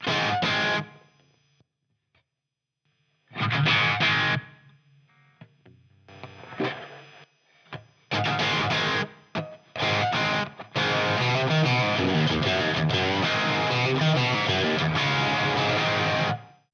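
Distorted electric guitar through a Marshall amp simulation on a Two Notes ReVolt pedal, played in bursts of chords with pauses, then a longer sustained, driving passage; loud and close.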